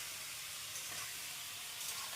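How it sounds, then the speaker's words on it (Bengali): Chicken pieces frying in hot oil for a chicken curry give a soft, even hiss and sizzle that stays steady and fairly quiet throughout, with no one talking. "চিকেনের টুকরোগুলোকে আমাদের ভালোভাবে ভেজে নিতে হবে।"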